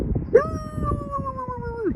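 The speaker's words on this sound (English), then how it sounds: "oh, little dog" A small dog lets out a single sustained howl, close and clear, holding a steady pitch for over a second before trailing off, with faint background noise beneath.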